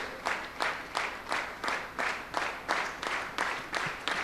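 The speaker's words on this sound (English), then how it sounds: "Let's continue to clap our hands." Rhythmic clapping by a crowd, steady beats roughly every half second, moderately loud and continuous with no talking over it.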